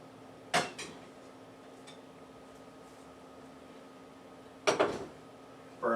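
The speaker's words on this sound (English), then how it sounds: "Now let's get our frying pan back out here." A frying pan is handled in a home kitchen and set onto a stovetop burner, giving two or three short metallic clanks and scrapes separated by a quiet hum of background appliance noise.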